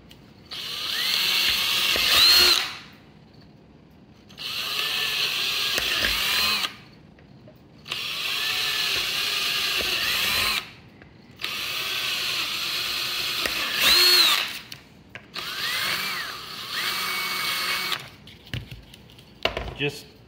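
A power drill bores out PVC from homemade pool-noodle catfish jugs, whining in repeated bursts of about two seconds each separated by short pauses, close and loud, with a ratcheting clatter near the end.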